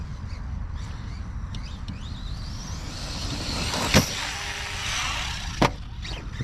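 An Omni Terminator carbon RC truck leaves the ground and comes down outdoors, with a steady motor whine and two sharp impact thuds from the landing, the louder one near the middle and a second shortly after.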